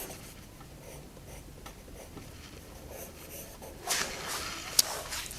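Pencil sketching a face on paper, with soft continuous scratchy strokes up close, quiet at first and growing brighter and louder toward the end, with one sharp tick near the close.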